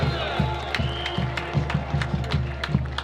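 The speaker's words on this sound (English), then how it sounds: "Kennedy's all cheering." At a high school football game, a crowd cheers and claps in a loud wash of noise while rhythmic thumping drums beat underneath and voices mix in.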